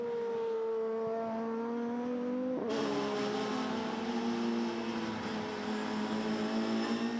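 Touring car engines roar during a 2008 WTCC race at Okayama, a sustained buzzing drone that shifts pitch and swells abruptly midway as the cars re-accelerate, with no voices.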